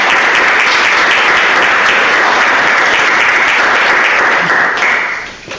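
A warm round of audience applause welcomes a guest speaker at an architecture lecture, thick continuous clapping close and loud that fades out at the end.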